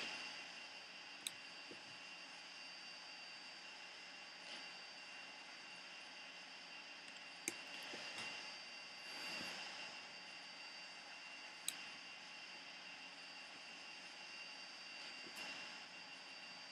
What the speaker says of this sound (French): Là, on va décoller à côté d'un parking.